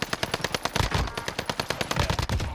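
Rapid automatic gunfire rattles close and loud in a battle royale match on the Fortune's Keep map, a dense stream of shots with brief gaps between bursts.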